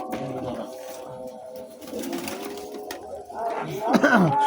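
Pigeons coo repeatedly at a pigeon racing club, their soft, throaty calls rising clearly near the end while someone talks over them.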